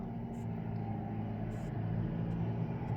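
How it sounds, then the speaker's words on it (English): A loud truck rumbles past outside a house, a steady low engine drone heard indoors through the whole stretch, with a few faint higher chirps over it and no talk. "Sorry about the loud truck."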